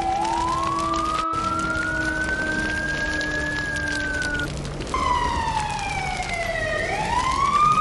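Wailing emergency siren from a fire truck, rising and falling tones sweeping up and down over several seconds with a fresh cycle starting midway, loud and alone over faint traffic rumble.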